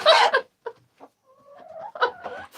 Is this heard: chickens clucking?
yes